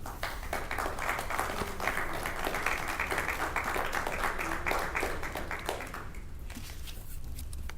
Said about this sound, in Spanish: darle un aplauso de bienvenida